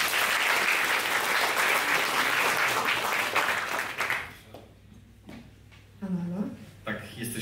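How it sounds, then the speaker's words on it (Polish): Loud, sustained audience applause for a presenting team at a finals gala fills the first four seconds, then dies away as a voice begins speaking. "Brawa dla nich."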